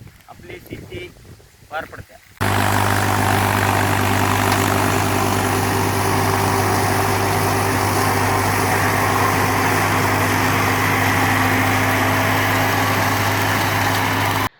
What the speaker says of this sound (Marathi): या मशीनद्वारे उरलेला पाला कुट्टी करून सर्वत्र त्याच रानात पसरला जातो